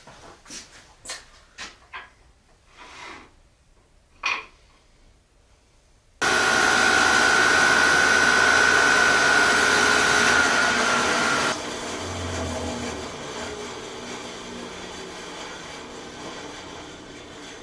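Bandsaw cutting a pen blank, with a few sharp knocks first, then the motor starting abruptly into a loud steady whine with a high tone and dropping to a lower hum as the cut ends.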